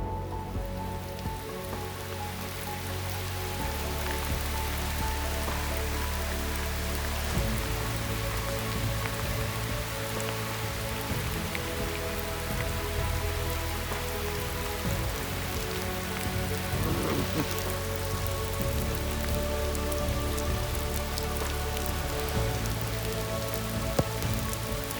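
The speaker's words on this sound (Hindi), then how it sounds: "बरसात हमें सीता माता की मेन गेट से 4-5 किलोमीटर निकलने के बाद ही शुरू हो गई थी." Steady rain pours on surfaces in Sitamata Wildlife Sanctuary, a dense, continuous hiss of drops that holds at an even level throughout with no voices.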